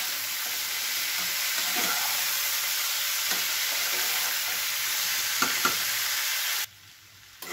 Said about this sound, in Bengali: এটা একদম ভাজা ভাজা হয়ে গেছে, যতটুকু ভাজার দরকার আমি এটা ভেজে নিয়েছি